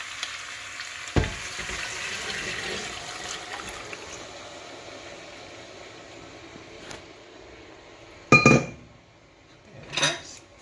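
Water pours into a pot of curried chicken feet with a rushing hiss that fades away, followed by a few loud metallic clanks of cookware.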